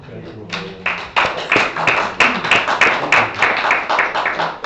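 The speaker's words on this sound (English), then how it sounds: "Let us clap once again" A church audience claps after a presentation, dense and close, building from a few scattered claps into steady, lively applause that keeps going to the end.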